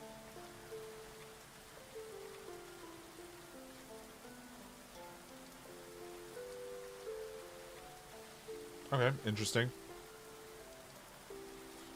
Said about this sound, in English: it's actively raining